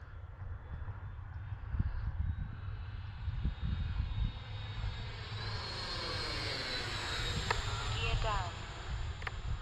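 A Freewing L-39 RC model jet in Russian camo flies overhead with a rising, whining turbine tone that sweeps past, heard over gusty wind noise with someone talking.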